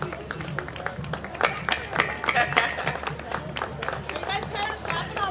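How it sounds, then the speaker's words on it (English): Spectators lining a small-town festival parade route clap in scattered, irregular bursts, with crowd chatter and street noise around them. "guys started clapping already"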